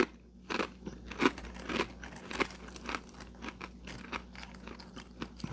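Close, crisp crunching and chewing of everything-flavored pretzel snacks topped with rock salt, pepper, poppy seed, sesame and onion, with irregular bites and crackly mastication and no talk.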